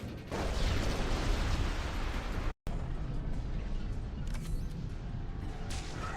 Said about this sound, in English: if you listen for Shepard's gunfire here